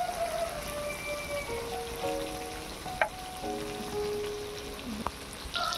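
Cashew-poppy paste fries with pointed gourd in a pan, giving a soft continuous sizzle and crackle with faint tonal clinks and a couple of sharp utensil taps, close and fairly quiet, with no talking.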